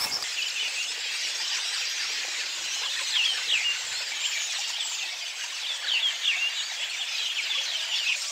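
Many birds chirp and twitter together at a distance, a continuous busy chorus with sharper high calls popping out now and then.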